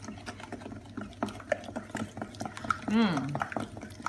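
A small spatula mixes chocolate fondant batter, producing soft irregular scraping and stirring strokes close by, with a brief voiced sound partway through.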